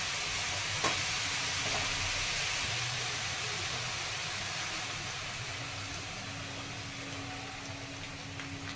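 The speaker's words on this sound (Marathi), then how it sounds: "आता मी दूध टाकून घेते यामध्ये" Milk hits sautéed grated carrot in a hot pan for carrot halwa, giving a steady, hissing sizzle that stays even and fairly quiet throughout.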